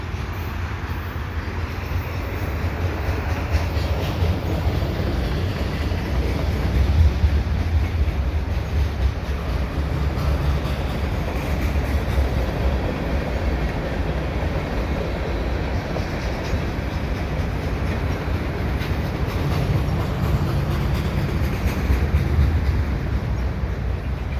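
A CN mixed freight train of boxcars and lumber cars rolls steadily past at Dorval, a continuous loud rumble of wheels and rail noise with faint clatter, no voices.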